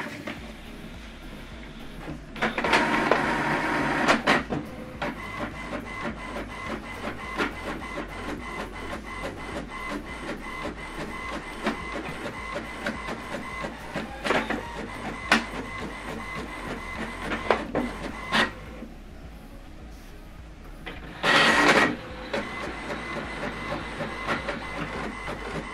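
An HP printer copying a document in color runs with a steady mechanical whir and rapid rhythmic clicking, plus a few louder surges as paper feeds and the scan head moves; no voices.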